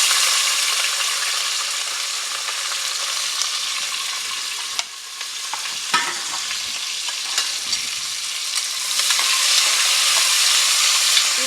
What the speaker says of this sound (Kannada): ಇವಾಗ ನೋಡಿ ಈರುಳ್ಳಿ ಫ್ರೈ ಆಗ್ತಾ ಇದೆ